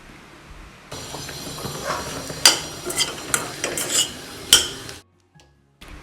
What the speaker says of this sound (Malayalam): ഇതിലേക്ക് നമുക്ക് ലാസ്റ്റ് ഒരു തണ്ട് കറിവേപ്പില കൂടി ചേർത്ത് ഒന്ന് ഇളക്കി കൊടുക്കാം